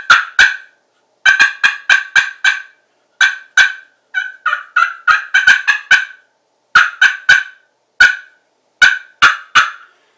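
Turkey hen cutting imitated on a slate call for spring gobbler hunting: loud, sharp clucks fired in quick irregular bursts with short pauses between groups, close and clear with no talking.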